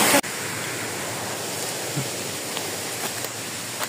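A waterfall on a hiking trail to the 21 Falls in Sultan Kudarat, Philippines, gives a constant broadband roar, loud and unbroken, after a brief sharp sound at the very start.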